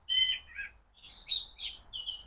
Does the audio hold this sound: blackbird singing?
yes